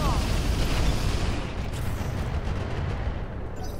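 A volley of LRM missiles launched at a Sentinel mech in the BattleTech mod Roguetech, a loud continuous roar of rocket fire and rumbling impacts that fades slightly toward the end, with a voice talking underneath.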